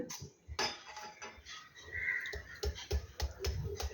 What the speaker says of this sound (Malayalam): ഇങ്ങനെ വെച്ച് ചെറുതായിട്ടൊന്ന് കൊത്തി അരിഞ്ഞെടുക്കുന്നതാണ് എളുപ്പം.